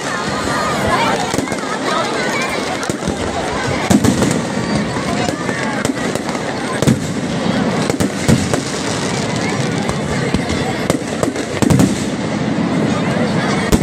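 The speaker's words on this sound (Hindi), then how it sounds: "आतिशबाजी" Fireworks at a Dussehra Ramlila in Nainital crackle and pop as the Ravana effigy burns, giving a dense, continuous barrage of loud bursts and sharp bangs over crowd noise.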